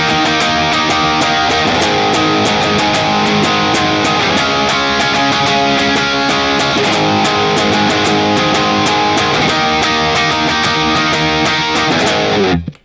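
Distorted electric guitar strums the chorus of a song with dense, steady power chords, loud and continuous without a break until a quick cutoff at the end, with no voices.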